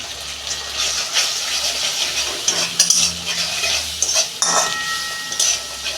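Spices with salt, turmeric and chilli powder fried and stirred for chana dal, close sizzling under repeated scraping and clinking of a spatula against the pan in an uneven rhythm, no talking.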